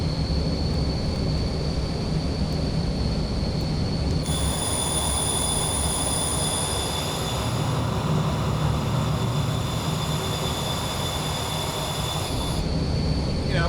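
Steady, loud jet engine whine from a Carenado Premier 1A (Beechcraft BE390) in a flight simulator, a constant roar with high tonal hums that shift partway through, no voices.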